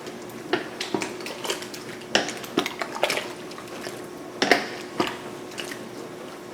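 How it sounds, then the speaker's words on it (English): Home-grown tomatoes for sauce being stirred in a pot, with repeated wet clinks and knocks of a utensil against the pot and soft squelching of the thick mixture, close and irregular. "what I'm doing is adding more and keep stirring and keep mixing it up"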